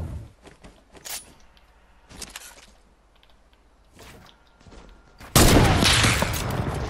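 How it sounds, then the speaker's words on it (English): Gunfire in the game Fortnite, a few scattered sharp shots and thuds followed by a loud sustained blast of noise over the final seconds. "I knew you were gonna shoot at me"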